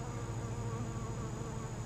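Honeybees swarm around an open hive during an inspection, making a dense, continuous buzz that is close and steady, with no voices over it.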